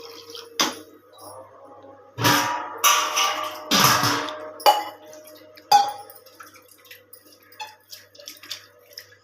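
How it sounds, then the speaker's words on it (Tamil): Rinse water sloshes and pours out of a mixer jar into a pot of curry in several short bursts, close up, with clinks of the jar against metal between splashes. "மிக்ஸி ஜாரை கழுவி ஊற்றிட்டேன்."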